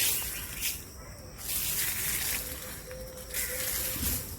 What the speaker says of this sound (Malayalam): എന്നിട്ട് നമ്മൾ ഇതിൻ്റെ മേളിൽ നനച്ചു കൊടുക്കണം